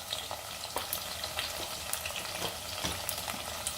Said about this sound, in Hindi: मैं आलूओं को भी डाल देती हूँ इसमें, तो दोनों एक साथ फ्राई हो जाएंगे